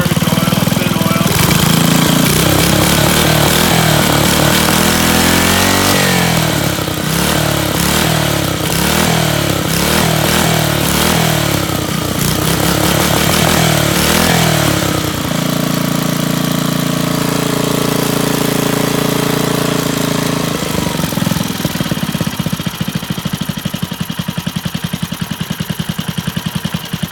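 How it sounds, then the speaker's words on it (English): A smoky dump-find Briggs and Stratton 5hp flathead engine runs loud and close, chugging rough and steady, then settles to a lower, even idle partway through. "But she does idle down real nice."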